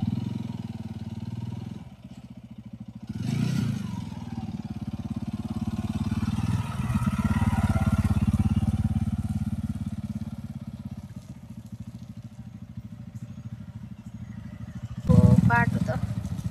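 A scooter engine drones steadily at close range while riding along a muddy road, its low rumble rising and falling through the ride with a brief louder burst near the end.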